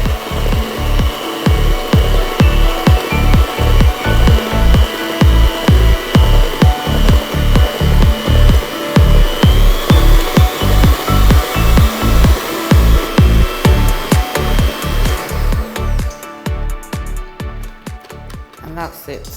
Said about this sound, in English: I'm just going to use my hand mixer to incorporate some air in the batter.